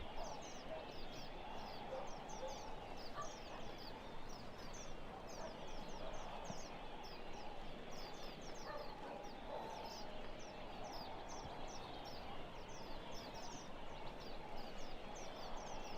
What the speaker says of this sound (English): Those birds sound nice, don't they, Chatfish?